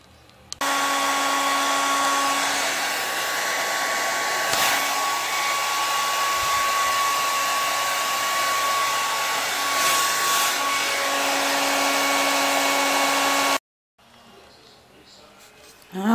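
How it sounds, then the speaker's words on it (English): A hair dryer blowing on a dog after a bath runs as a steady, loud whine for about thirteen seconds, then cuts off abruptly, leaving a quiet room. "I'm going to give him a little bit of a blow dry, get him dried up"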